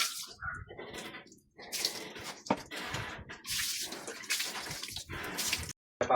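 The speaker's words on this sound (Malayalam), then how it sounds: "സോനുവിനെ ഞങ്ങൾ ഇടത്തൂർ വെള്ളത്തിലാണ് കുളിപ്പിക്കുന്നത്." Water splashes and pours close by as a pet dog is bathed, in uneven bursts of sloshing and dripping with a brief silent break near the end.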